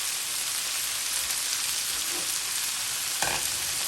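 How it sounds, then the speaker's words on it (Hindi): Tomatoes and spices frying in a pan for aloo methi sabzi, a loud steady close sizzle with a brief stir or clatter near the end, no voices. "अब ये बड़े साइज के मेरे पास 2 टमाटर थे, अब इनको हम फ्राई करेंगे"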